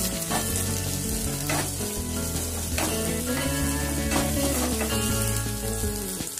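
Onion sizzles in a pan for millet upma with a continuous crackling fry under prominent background music and no talking.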